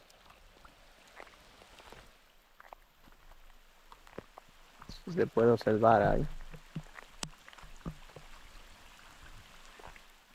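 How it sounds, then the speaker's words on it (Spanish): Light rain patters steadily with scattered drops at a fishing campsite, and a person speaks briefly in the middle. "aquí se ha cerrado a llover"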